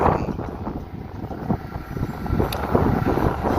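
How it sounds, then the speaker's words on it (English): Strong, gusty desert wind roars steadily across the microphone, rumbling loud and close with surging buffets throughout. "Crazy, crazy extreme wind here in the desert."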